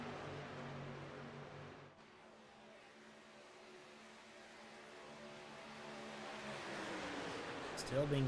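Race cars and trucks running laps on an oval track at the Bluegrass Freedom 100, a sustained engine drone from several vehicles at a distance, swelling slightly as they pass, under a commentator's talk.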